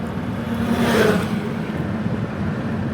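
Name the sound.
car driving, heard from inside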